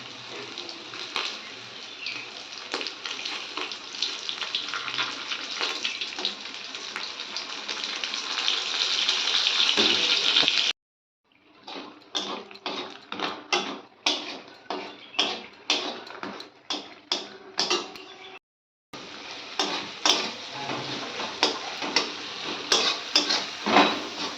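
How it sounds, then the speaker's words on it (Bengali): Fish shallow-frying in hot oil gives a steady sizzle with a stirring, scraping clatter; the sound breaks off twice, returning as choppy bursts of sizzle and utensil scrapes, close and fairly loud. "তো মাছটা আমার ভাজা হয়ে গেছে"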